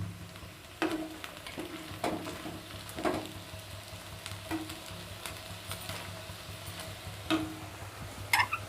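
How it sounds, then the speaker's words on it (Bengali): Lightly fried lentils stirred in a pan, a soft background sizzle broken by several quiet spoon scrapes and taps at irregular intervals, no talking. "এবার একটু নেড়ে নেব।"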